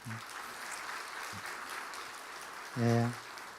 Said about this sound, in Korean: 여러분 크게 격려의 박수를 한번 해주시기 바랍니다